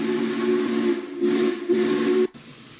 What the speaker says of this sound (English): It has an awesome sounding whistle at the very least